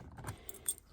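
Small ERA lock keys jangle briefly and faintly near at hand, a quick light metallic rattle with no voices.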